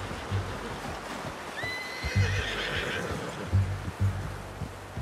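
A horse whinnies loudly in Red Dead Redemption 2, a high rising neigh over close, rhythmic clip-clop hooves and faint outdoor ambience.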